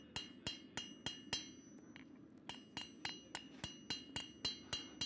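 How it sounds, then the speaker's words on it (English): A hammer peening metal at a blacksmith forge gives a fast, steady run of sharp ringing clinks, about three strikes a second, with one brief pause midway and a low steady hum beneath. "I really peen the ears quite a bit, make them floppy looking."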